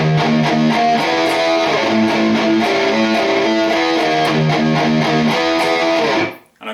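Distorted electric guitar playing a riff, with palm-muted chugs, hammer-ons and a closing slide, loud and close with a rapid even rhythm, cutting off abruptly at the end.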